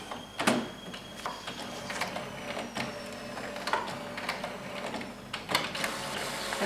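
A printer whirs and clatters steadily at close range, with repeated mechanical clicks and sliding sounds as paper feeds through.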